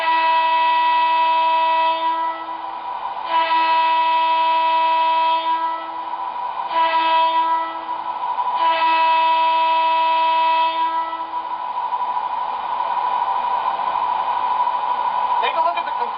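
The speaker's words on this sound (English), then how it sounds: "Here's the crossing sound." Railroad crossing effect from the sound set of a Lionel 381SS "Brute" standard gauge tinplate toy train, a loud steady electronic tone with horn-like blasts cutting on and off in a repeating pattern for about sixteen seconds.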